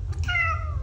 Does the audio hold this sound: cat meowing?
yes